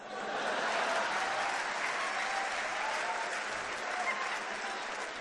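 Audience clapping at a Hindi poetry recital, a steady, dense round of applause from a large crowd filling the whole stretch at even loudness.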